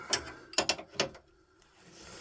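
A ratchet turns a long socket on the suspension ball joints of a Dacia Duster 1.3L TCe, giving a few sharp clicking bursts close by, then a quiet pause.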